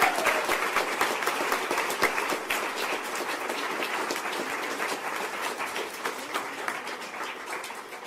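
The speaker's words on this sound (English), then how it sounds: "a round of applause, please, because that's incredible." Sustained applause from a large audience at a press conference, dense steady clapping filling the whole stretch at an even, lively level.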